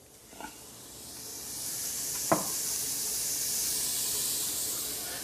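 Garlic and onions sizzle steadily in a hot pan, a broad hissing fry that swells gradually, with a couple of brief clicks of a utensil against the pan.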